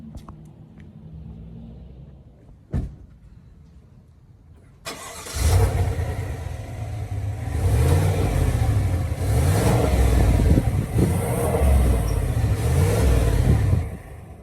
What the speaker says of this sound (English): this has an exhaust that sounds really good, actually, for a truck